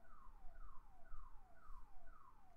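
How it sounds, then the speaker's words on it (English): A car alarm sounds outside, faint and distant, cycling through five evenly spaced descending whoop sweeps over a low rumbling background, with no talk. "Is there an alarm going on outside?"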